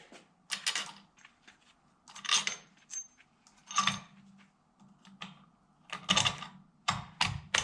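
Metal bolts clink and rattle as they are fitted into a jet ski manifold flange, with faint scattered taps and jangles in bursts separated by short pauses.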